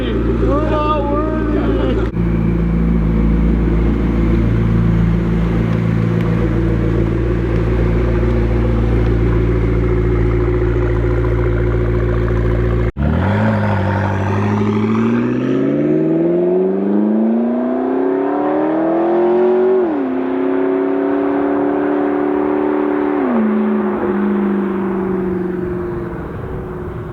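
A McLaren with a loud Soul Performance exhaust revs hard, a steady roaring drone giving way to a sharp cut and then rising, falling revs up close, with voices talking over it.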